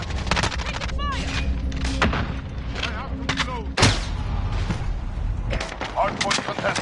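Video game gunfire rattles in a combat match, repeated close shots and bursts with heavy booms and thuds over a constant rumble, while game voice callouts break in.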